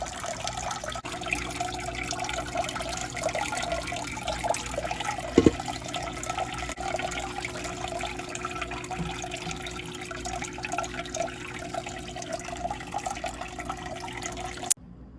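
Water running steadily during a big saltwater aquarium water change, a continuous close trickle and splash of filling or draining with faint drips and a low steady hum, no talk.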